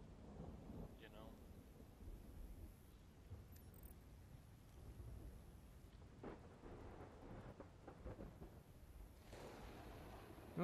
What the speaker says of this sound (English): lightning almost struck me